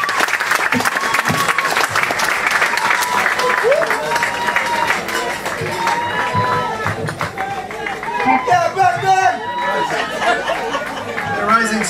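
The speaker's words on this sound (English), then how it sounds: "Put your hands together, give them a rousing round of applause." An audience at a Salvation Army concert claps and cheers throughout, a dense, steady wash of applause with scattered voices and chatter, close and loud.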